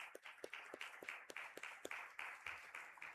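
A church congregation claps together after a summer school program, quiet, sparse handclaps in a loose rhythm without any talk.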